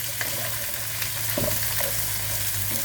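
Snow peas and scallops stir-fried in a pan give a continuous close sizzle, broken by a few scraping strokes of a spatula; no voices.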